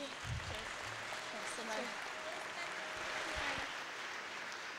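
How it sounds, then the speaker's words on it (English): Applause for swimmer Elizabeth Simmons at the British Gas Swimming Championships, a faint, distant crowd clapping in a large pool hall, with a commentator's voice talking over it. "Let's have a massive round of applause for Elizabeth Simmons"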